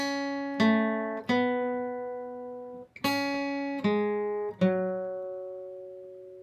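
A guitar plays notes from a song, six clean plucked notes and dyads spaced about a second apart, each ringing and decaying, heard close and alone.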